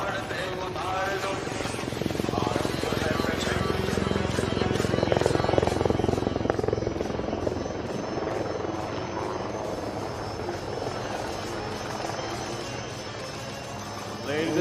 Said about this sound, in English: here she is, the light combat helicopter Prachand, right in front of you